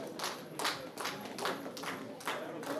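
Conference audience at a South Indian CSR conclave clapping for someone called to the dais, in scattered bursts of applause with a steady, moderately distant background of room noise.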